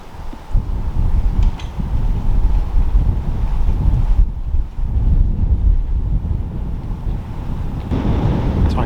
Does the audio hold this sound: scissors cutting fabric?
no